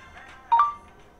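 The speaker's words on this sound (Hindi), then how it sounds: "ये देखिए टोन कंटिन्यू बजती रहती है इसके अंदर नोटिफिकेशन की" A Realme phone plays a short notification tone, a brief electronic chime of a couple of pitched notes, close and clear over a quiet background with no talk.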